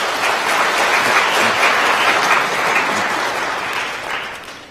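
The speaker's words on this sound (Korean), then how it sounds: "여러분들 환영의 박수 부탁드리겠습니다" A Sunday service congregation at Kyungdong Church gives loud, close welcoming applause, a thick, steady burst of clapping that fades slightly toward the end.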